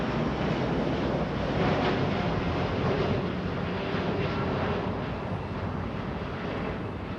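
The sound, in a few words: Boeing 787-8 Dreamliner airliner taking off from LAX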